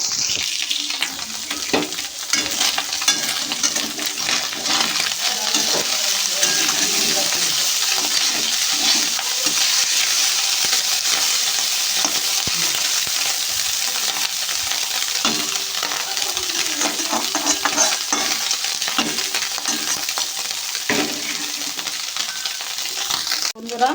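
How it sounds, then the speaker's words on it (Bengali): Small pieces of fish fry in oil in a kadai for a spicy mixed-vegetable fish dish, giving a steady, loud sizzle with occasional stirring scrapes throughout, no talking. "মাছটা আমি একটু একটু করে হালকা করে ভেজে নেবো"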